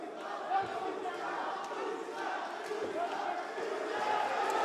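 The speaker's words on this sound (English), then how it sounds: "He's got to pick up and a slam. The crowd go crazy." A big arena crowd at an MMA fight roars and cheers wildly after a slam, a dense sustained wall of voices with an excited commentator talking over it.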